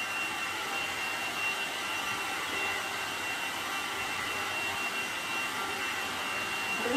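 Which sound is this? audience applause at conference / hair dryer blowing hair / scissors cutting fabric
hair dryer blowing hair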